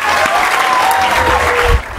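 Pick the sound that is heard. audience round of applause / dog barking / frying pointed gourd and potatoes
audience round of applause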